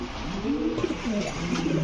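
A young fancy pigeon on a farm gives soft, warbling coos in a short run, close and alone.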